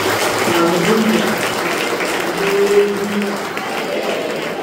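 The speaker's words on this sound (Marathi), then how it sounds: "आणखीन एक जोरदार टाळ्या येशूला देऊया" Congregation applauding for Jesus in a church service: dense, steady clapping from a crowd fills the whole stretch, with faint tonal voices or music threaded underneath.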